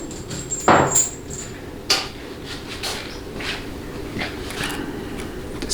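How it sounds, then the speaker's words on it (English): Metal bolts clink and tap into a 700R4 automatic transmission case during a rebuild, a few sharp knocks and rattles scattered over a steady background hum, close by. "now I'm going to put all the rest of the bolts in"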